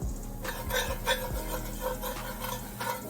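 Curry powder toasting in coconut oil in a pot, with a rhythmic scraping of a spoon against the pot over a faint sizzle, close and low in level.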